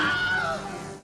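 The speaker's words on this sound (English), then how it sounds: "This is known as the Wilhelm scream, and it's one of the film industry's longest running inside jokes" A Wilhelm scream, the stock film sound effect, rings out as a single short, high, strained male yell that cuts off abruptly after about a second.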